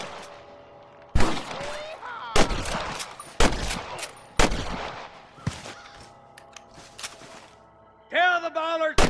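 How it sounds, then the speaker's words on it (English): Several loud, sharp gunshots in the video game Red Dead Redemption crack one after another at close range, with echoing tails, followed by a burst of a raised voice near the end. "I can hear more gunshots."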